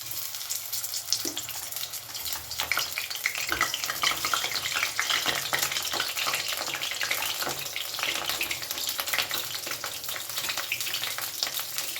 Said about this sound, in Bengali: এবারে আমি বোটা শুদ্ধ বেগুনগুলো ভেজে নেবো